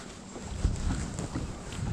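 Brisk spring wind buffets the microphone on a bass fishing boat, a steady low rumbling roar with gusty swells throughout.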